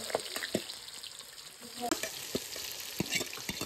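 Onions sizzling and frying in a pan for a paneer curry, a steady bright crackle with occasional sharp clicks of stirring, fairly quiet and close, without talk.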